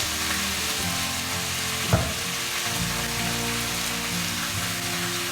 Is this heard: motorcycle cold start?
no